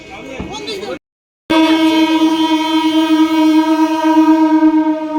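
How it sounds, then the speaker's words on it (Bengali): At Jadavpur railway station, a brief snatch of voices and clatter gives way to a sudden gap, then a loud, sustained train horn that holds one steady tone to the end. "যাদবপুর স্টেশন দিয়ে আমরা এখন ট্রেনে উঠবো"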